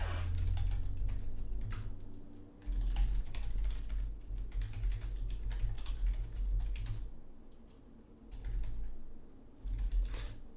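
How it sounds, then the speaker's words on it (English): Rapid typing on a computer keyboard during a game tournament stream, bursts of close clicking keystrokes separated by short pauses, set over a low steady hum, with no talking. "Typing to Phoenix King right now"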